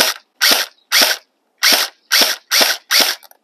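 An HK416 6mm BB airsoft electric rifle fires at a target in sharp, snappy bursts, about seven close, loud cracks spaced by short pauses, with a faint mechanical whir after the last one.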